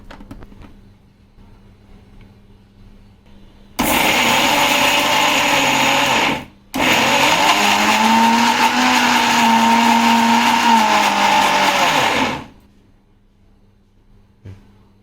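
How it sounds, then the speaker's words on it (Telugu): Raw peeled garlic is coarsely ground in a mixer grinder. The loud, close motor whine runs for about three seconds, stops briefly and then runs again for about six seconds, its pitch shifting as the load changes. There is quiet before and after. "ఇందులో వేసి వీటిని కచ్చా పచ్చాగా మిక్సీ పట్టుకుందాం"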